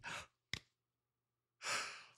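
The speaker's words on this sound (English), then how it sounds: "I did that so I could get a yawn in" A person yawns, with a long breathy exhale at the start, a short sharp catch of breath, then a drawn-out airy breath after a pause, quiet and close.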